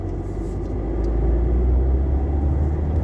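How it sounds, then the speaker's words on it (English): Loud, steady low road rumble and engine drone fill a car cabin with its sound insulation stripped out, the hum swelling slightly as the car drives along, with no talking. "My car might be a little bit noisy."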